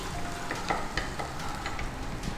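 Ingredients for white sauce pasta frying in a pan, a steady close sizzle with faint scattered crackles and soft stirring, no voices.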